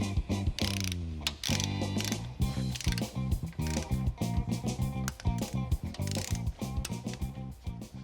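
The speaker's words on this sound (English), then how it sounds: "Now we're torquing these bolts for the oil pan, working our way from the inside out." Ratchet wrench clicking in rapid repeated bursts while torquing oil pan bolts on a Cadillac short block, close and loud against a musical background.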